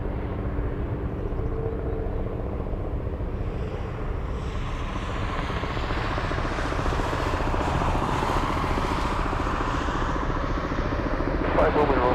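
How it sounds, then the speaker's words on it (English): A seaplane passes overhead at Anchorage, a steady droning engine that swells gradually toward the middle and stays fairly close, with faint voices talking beneath it. "We have the a seaplane right above us"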